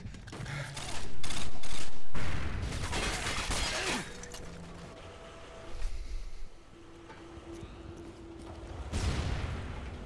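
Call of Duty Modern Warfare 2 on PS3 erupts with a dense burst of gunfire and flash grenades, loud at first, then thinning into scattered shots and bangs at lower volume.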